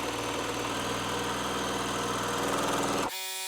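A sewing machine stitches a seam along a drawn line on a quilt block, with a steady, loud mechanical whir and rhythmic buzzing that runs continuously for about three seconds before stopping abruptly.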